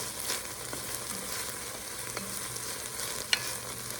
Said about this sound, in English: 2 tablespoons of minced garlic. Awesome aromatic flavor. Let that cook for about a minute.